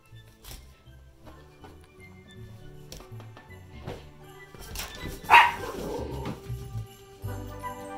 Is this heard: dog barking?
yes